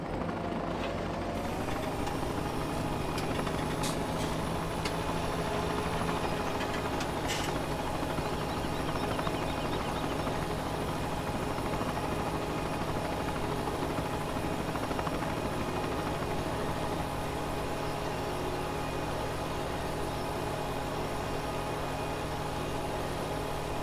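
A farm vehicle engine running in Farming Simulator 17, a continuous loud droning rumble with a steady whine above it, unbroken for the whole stretch with no speech.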